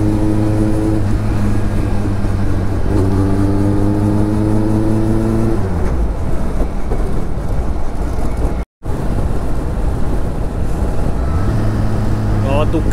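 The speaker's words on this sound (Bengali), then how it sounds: "সাউন্ডটা কিন্তু বেশ সুন্দর, V4 ইঞ্জিনের জন্য অন্য রকম" A Kawasaki ZX-10R superbike's V4 engine revs hard on a foggy Kolkata morning ride, pitch climbing in repeated surges with a brief cut near the end, loud and close over constant wind rush.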